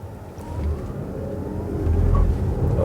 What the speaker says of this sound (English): the car actually still was able to spin the wheels, even though it's a perfectly dry weather